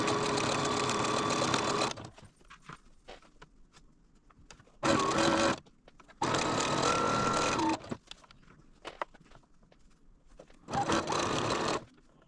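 Sewing machine stitching quilt squares for a beginner sampler quilt, running in three or four bursts of steady rapid whirring, close and clear, separated by quiet pauses.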